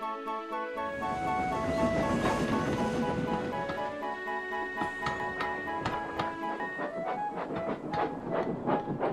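A steam engine hauls a heavy goods train loaded with metal, chugging steadily with rhythmic clanking and rail clatter, brief whistle-like tones ringing over the rolling wagons.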